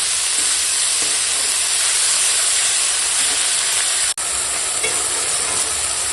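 Fenugreek greens cooking down with soft, mushy brinjal in a pan give off a steady, close hiss and sizzle, continuous throughout with one brief drop near the end.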